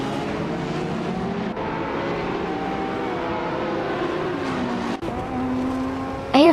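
Race cars from a racing video game, including a 2015 Renault Sport RS01, drone loudly and steadily, engine tones rising and falling through gear changes, with a brief dip near five seconds and a sharp high whine at the end.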